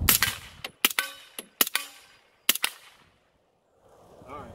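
A FA AR9 rifle fires subsonic 124 grain rounds outdoors, about seven sharp, loud shots in an irregular string with short echoing tails, followed by quiet and a faint voice at the end.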